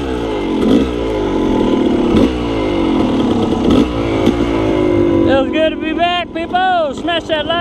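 A motorcycle engine revs and drones close up while running rich at high elevation; toward the end a voice breaks in and talks over the engine.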